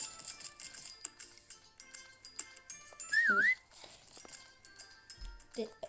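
A short wavering whistle rises and falls once, close by, amid scattered clicks, taps and faint background sounds.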